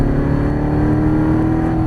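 Chevrolet C7 Corvette Stingray engine pulling hard on a race track, a steady loud close-up drone with a slight rising tone, no voices over it.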